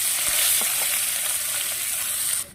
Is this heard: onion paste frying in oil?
yes